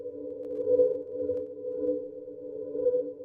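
A sustained synth pad holds a steady tone, its texture gently wavering and pulsing in slow cycles from one LFO modulating a time parameter, quiet and alone.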